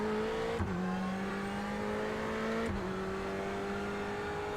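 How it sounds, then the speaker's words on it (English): Race car engine in the iRacing sim, holding a steady loud drone with two sharp pitch drops as it shifts gears, as if another car is closing in. "Take care, there's a car approaching."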